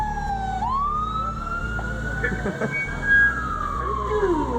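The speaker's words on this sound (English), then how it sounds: "How do you make the siren work?" A wailing siren sweeps up and holds a steady high tone over a rumbling engine, with a brief burst of voices partway through.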